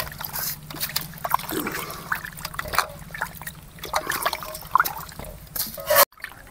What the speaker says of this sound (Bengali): আমি ভালো করে ধোবো, জল ঢেলে ধুয়ে ভালো করে ধুয়ে নেব।